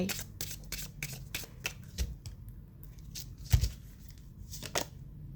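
Oracle cards being shuffled by hand, a quick series of soft papery flicks and riffles at close range with a couple of louder taps, no voices.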